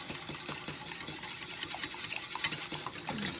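Whisk scraping steadily through a thickening sauce in a pot just pulled off the burner, a continuous close rasping stir with faint clicks, no talking.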